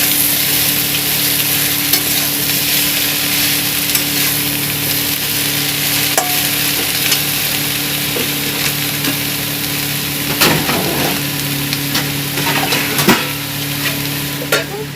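Potatoes fry in a pan while being stirred for a Bengali lau shak data posto dish, a loud, continuous close sizzle with occasional scraping knocks of the spoon against the pan, and a low steady hum underneath.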